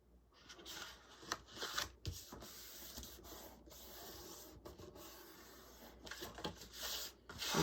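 Paper being folded by hand for a junk journal envelope pocket gives soft, quiet rubbing and creasing swishes in short, irregular strokes, close up with no talking.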